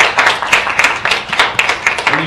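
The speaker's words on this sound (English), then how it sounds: "Let's give Riley another round of applause." Audience applause at a student TED talks conference, a dense patter of many hands clapping steadily and fairly close for a couple of seconds, with a faint voice underneath.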